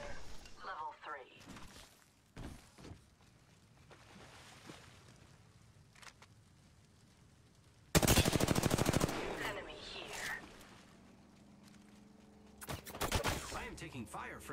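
Gunfire in a battle royale video game comes in short bursts, with one loud sustained burst in the middle and another near the end, under sparse game voice lines and quieter stretches between.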